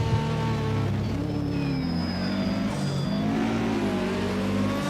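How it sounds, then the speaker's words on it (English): A high-revving 4-cylinder Opel Kadett hill climb race car with almost no exhaust system snarls through a chicane at the Glasbachrennen, its engine loud and near, revs dipping and climbing again in an angry, buzzing wail. "In general, high-revving 4-cylinder engines with almost no exhaust system, they always sound like letting out a bunch of angry bees."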